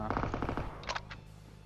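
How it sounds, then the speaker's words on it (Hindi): A short rapid burst of automatic gunfire from a Groza rifle in PUBG Mobile, then a few sharper separate shots, fairly close, with no talking. "वो गुरुजा की आवाज़ थी"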